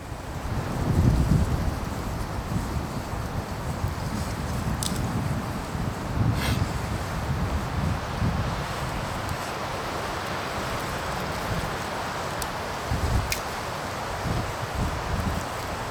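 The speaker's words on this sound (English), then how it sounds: "Very windy tonight." Gusty night wind blows through pine trees in a forest, a broad rushing roar that swells and eases in uneven waves, with a few faint clicks and knocks scattered on top.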